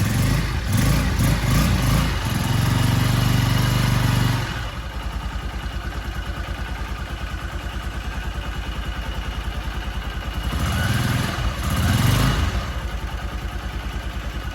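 A 2023 Honda XR150L motorcycle with a carburetor and a changed main fuel jet cranks and catches, revving loudly for a few seconds, then settles into a steady idle before a second brief blip of throttle, close by.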